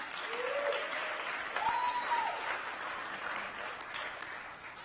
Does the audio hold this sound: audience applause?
yes